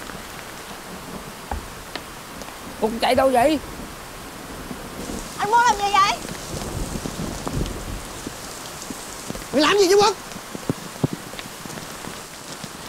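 Steady rain falls throughout during a stormy evening around a leaking house, a constant broadband wash under several short bursts of shouted dialogue.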